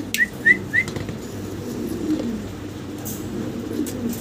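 Imported fancy pigeons, three quick whistling calls near the start, then a low murmur of cooing and soft room noise, with no talk.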